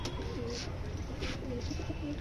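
Pigeons coo softly in a loft while being let out, with a few repeated low cooing calls over a steady background hum.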